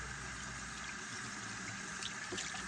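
Catfish fillets rinsing in water give a faint, steady rush of running water with light splashing and sloshing, continuous and close, with no talking.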